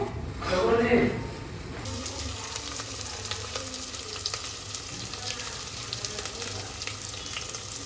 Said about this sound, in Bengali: পেঁয়াজ পেঁয়াজ রসুন রসুন লঙ্কা দিয়ে ভাজছি